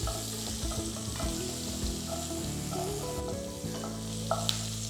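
Sliced onion and chopped garlic fry in hot oil in a pan for chicken macaroni, giving a steady, close, continuous sizzle with occasional stirring scrapes, no voices.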